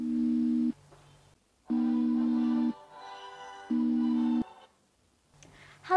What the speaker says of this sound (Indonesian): Oh iya, aku harus telepon Dinda